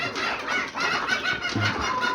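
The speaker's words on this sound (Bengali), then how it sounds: "এর সব দেশি মুরগি আপনার আর সবসময় ডিম পারে" Native Bangladeshi chickens cluck steadily nearby on a poultry farm in Bangladesh over a constant background hum, with a few short, clipped calls.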